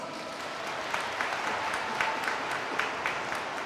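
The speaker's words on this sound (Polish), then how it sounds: "Witamy gorącymi oklaskami!" Steady crowd applause at a regional church children's gathering in Krzeszów, many hands clapping evenly at moderate distance, continuous and alone.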